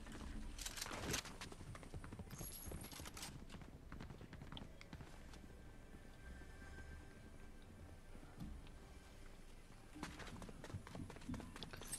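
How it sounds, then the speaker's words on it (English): Footsteps of nearby enemy players in the Fortnite video game, a steady patter of close steps running through most of the stretch over game background noise, with a couple of louder thumps. "I can hear the footsteps."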